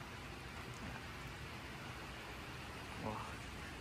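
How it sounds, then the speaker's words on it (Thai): Steady rain falls on a fishing raft on the Chao Phraya River in Thailand, a dense, even hiss throughout, with a brief louder patch near the end. "กลางสายฝนเลยครับ"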